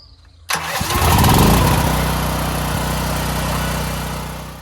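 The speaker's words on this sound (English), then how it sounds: "Let's see if the generator starts." A portable generator with its CO sensor bypassed starts abruptly after a short quiet moment, roaring up loudly, then settling into a steady, close engine drone.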